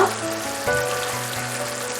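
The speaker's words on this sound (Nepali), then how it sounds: "ल अब चास्नी उम्लेर रेडी भएको छ" Sugar syrup for Nepali lakhamari sweets boils in a pan, giving a steady close bubbling sizzle with a brief stirring clatter partway through.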